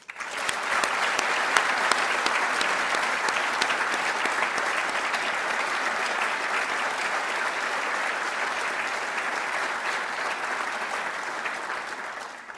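An audience at a military ceremony applauds the book writing team, a loud, even roar of many hands clapping that swells in and holds steadily for over twelve seconds before fading at the end.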